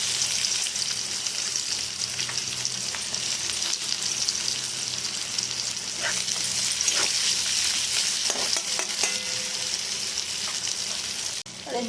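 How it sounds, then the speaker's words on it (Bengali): Onions hiss and sizzle loudly in hot oil in a home kitchen pan, a continuous crackling fry with occasional stirring clinks and a quiet voice in the background. "এখন আমি একটু পেঁয়াজ দিয়ে দিচ্ছি"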